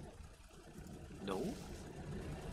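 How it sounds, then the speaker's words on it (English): A tank engine in the World War II game Gates of Hell runs as a steady, rough broadband rumble throughout, with a voice talking over it. "it's definitely the sound of my engine"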